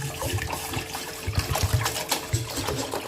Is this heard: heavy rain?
no